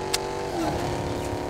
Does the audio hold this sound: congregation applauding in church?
no